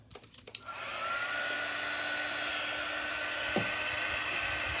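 A hair dryer blows steadily for several seconds while a bow tie craft piece is dried, a loud, even whoosh that starts after a few short bumps and holds without a break.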